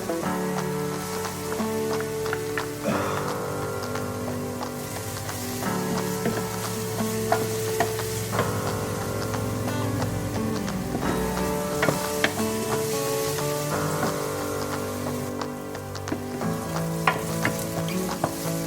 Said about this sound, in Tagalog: Pag medyo translucent na yung ating onions, lalagyan na natin itong garlic.